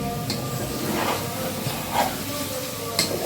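Beef curry frying down in a pan, its gravy cooked off: a steady broadband hiss with soft stirring scrapes roughly once a second, close and moderately loud, with no talking.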